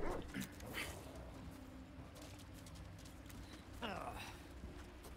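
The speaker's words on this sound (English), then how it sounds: "Come here, puppy dog." Dog barking and whimpering in the video game Resident Evil 4, a few quiet yips and barks mixed into a busy game soundscape, with short yelping bursts near the start and again later.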